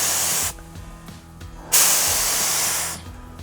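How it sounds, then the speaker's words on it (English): A spray paint gun painting a bicycle hisses in two long, steady bursts separated by a short pause, loud and close, with no talking. "finish hooking up the gun and start spraying"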